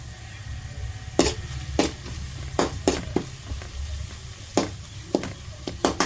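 Curry leaves dropped into a frying masala, a steady sizzle of hot oil punctuated by several sharp stirring scrapes and spatters, close and fairly loud with no talking.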